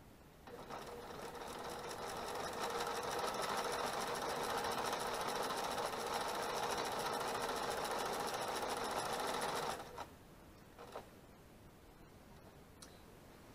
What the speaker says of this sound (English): I'm just going to turn this and stitch in the ditch to my next line